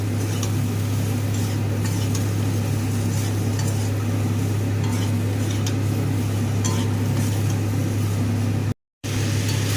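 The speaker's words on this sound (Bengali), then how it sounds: "এবার হলুদটা দিয়ে মশলার সাথে আবারও ভালো করে একটু কষিয়ে নেব।" Spices with turmeric, potato and papaya being sautéed in a pan, a continuous steady sizzle with faint stirring scrapes, close and even throughout, briefly cut by a short gap near the end.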